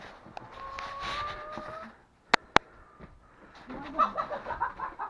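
Soft chicken clucking comes in a run of short, quick notes near the end, after a faint whistle-like tone and two sharp knocks, outdoors in cold, snowy weather.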